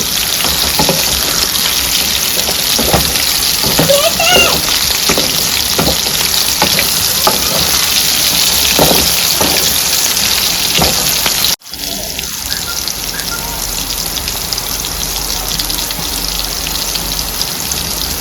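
Sliced bitter gourd (kakarakaya) frying in oil, a loud, steady sizzle with crackles and spatters while it is stirred, cutting briefly near the end before the frying noise carries on slightly quieter.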